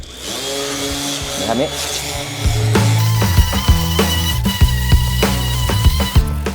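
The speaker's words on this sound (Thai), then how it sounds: "ใช้เครื่องขัดกระดาษทรายนะครับหรือกระดาษทรายขัดธรรมดาก็ได้นะขัดผ่านๆไปเลย" An electric sanding machine works over a rusty metal surface, a loud rough grinding whine with rhythmic scraping bursts and clunks as it moves, while someone talks briefly over it.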